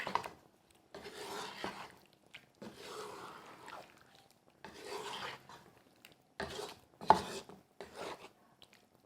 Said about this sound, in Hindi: अब हमने इसको अच्छी तरह से मिक्स करना है कोफ्तों के साथ